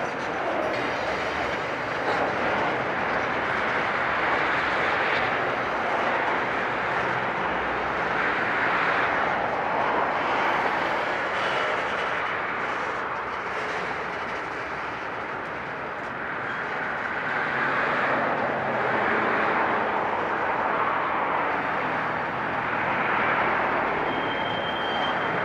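Slow trains roll past at a rail meet under a dark signal, a continuous low rumble and rattle of railcars with faint squeals and clickety-clack, steady and fairly close throughout with no talk.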